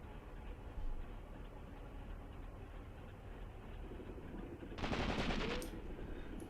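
Distant machine-gun fire in the war game Graviteam Tactics, a low rumbling backdrop of shots broken by one louder, harsher rattling burst near the end.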